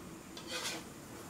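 Spices stirred in a heavy iron kadai, a short scraping rasp of a spoon across the metal pan swelling briefly and fading, close and faint.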